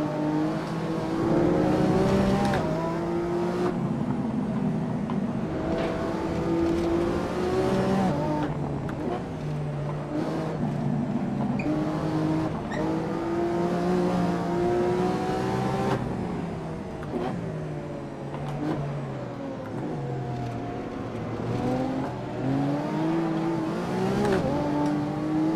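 Lamborghini Aventador SV supercar engine in the racing game Assetto Corsa, a loud continuous roar whose harmonics rise and fall with revving and gear changes, held throughout and driven partly off-road.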